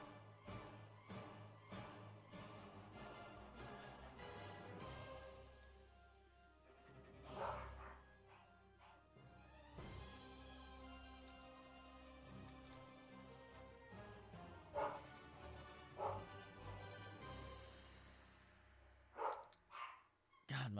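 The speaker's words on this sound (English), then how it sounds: "God, my dog's barking." A dog barks again and again in sharp, irregular bursts with some yips and short whimpers between them, clear and fairly close.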